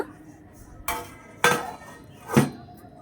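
A lid set down over a cooking pan of shrimp and bean chorchori: three sharp metallic clanks spaced about half a second apart, close by and fairly quiet, with no talk.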